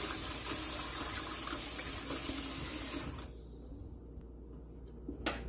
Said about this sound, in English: Rinse out the water, start over.